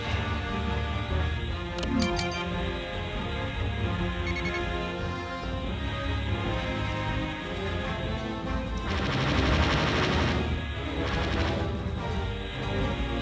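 Rapid bursts of gunfire from a fighter aircraft on a strafing run in a video game, loud and continuous over a dense engine and combat din, with a heavier flurry of shots toward the end.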